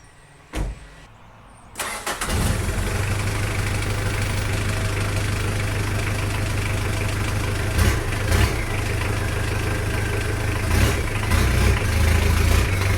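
A Dodge Ram 50 pickup engine cranks over and catches after a short quiet pause, then settles into a steady, loud, close idle with a deep rumble and a few brief revving swells.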